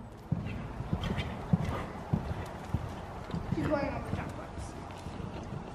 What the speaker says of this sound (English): Do you guys want to see the canter halt?